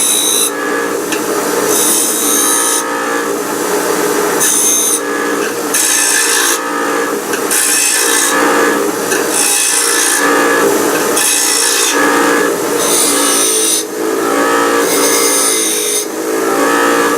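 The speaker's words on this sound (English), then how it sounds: "take the rough edges off it and put nice little curve on the corners" A hand file scrapes rough edges and rounds the corners of a steel coat hook, making loud, rhythmic rasping strokes that repeat roughly every second with brief pauses between them.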